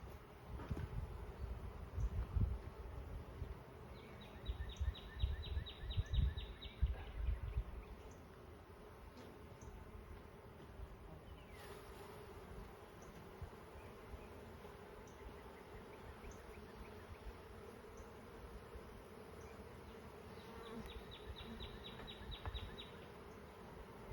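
Honey bees buzz steadily during a honey harvest, a dense, close swarm drone with brief sharper whines as individual bees pass near, continuing throughout without talk.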